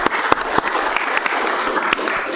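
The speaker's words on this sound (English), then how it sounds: "give him a huge round of applause" A city council meeting crowd applauding together, a steady, fairly loud patter of many hands clapping with a few sharper claps, and no talking over it.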